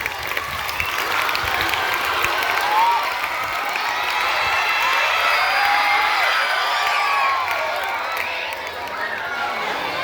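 Steady applause and crowd noise from an audience at a school cabinet election event in Akot, clapping for ten student candidates standing for chief minister, sustained and dense throughout with a lively hall ambience.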